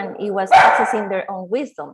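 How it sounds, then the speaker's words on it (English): A dog fighting with a neighbor's dog gives a short, loud bark or yelp mixed into a person's ongoing speech, which stays clearly in the foreground. "That's my dog, sorry. It's just fighting with a neighbor dog."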